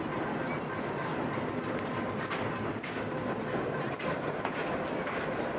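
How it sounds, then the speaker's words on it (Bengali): A train passes another train, a mail train, at Parbatipur Junction in Bangladesh: steady rumbling rail noise with clickety-clack wheel beats, close and continuous throughout, with no voices. "আরেকটি ট্রেনের সাথে ক্রসিং হচ্ছে,"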